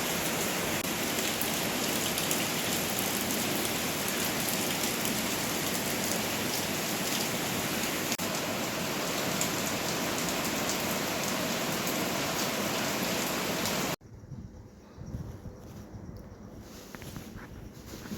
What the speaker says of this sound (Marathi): त्यानंतर लगेचच परत एकदा पाऊस सुरू झाला